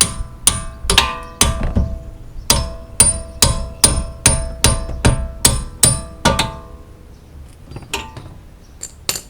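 A wrench works the tie rod jam nut on a 2015 Jeep Grand Cherokee, giving sharp metallic clanks and taps in a steady run of about a dozen strikes, close and loud, then a few sparser knocks.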